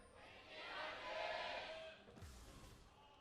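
Fans cheering at a League of Legends esports match between kt Rolster and KING-ZONE DragonX, a faint crowd roar that swells and fades, followed by a brief burst of noise.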